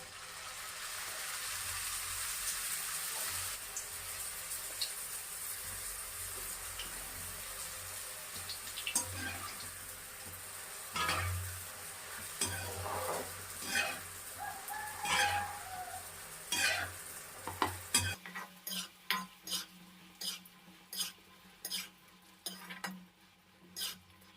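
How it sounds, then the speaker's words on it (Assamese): Small pieces of nimki dough fry in hot oil on a gas stove turned low, a soft, steady bubbling sizzle. Sharper clinks and kitchen knocks come in toward the end, and rooster crows sound in the background. "ইয়াতে এতিয়া মই হাতেৰে অলপ অলপকৈ নিমকিকেইটা দি ভাজি ল'ম।"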